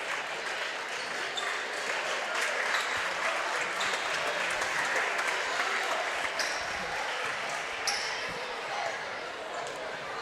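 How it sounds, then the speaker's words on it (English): A hometown crowd in a high school boys' varsity basketball gym gives a long, steady round of applause as a player leaves the game. A commentator talks over it, and sneaker squeaks ring out now and then. "Mason Dayport goes out of the game and gets a nice round of applause from the hometown crowd."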